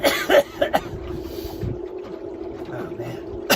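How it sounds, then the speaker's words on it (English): A couple of short coughs cut through low background noise, with a faint steady hum and quiet rustling between them. "There's that cough again."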